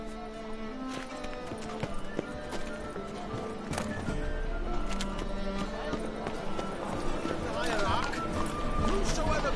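A horse gallops in Witcher 3 with a rapid, continuous clip-clop of hooves mixed into game music and ambience, and a voice speaks over it.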